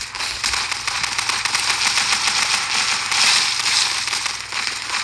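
Video game gunfire rattles without a break for several seconds, a dense and loud crackling burst with no pauses between shots.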